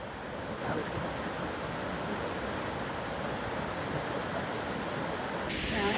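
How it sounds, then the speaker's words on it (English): A raging, swollen river in flood beside a footpath on the Cumbria Way in the Lake District, heard as a steady, loud broadband roar of rushing water with wind mixed in, unbroken for the whole stretch. "That river is raging."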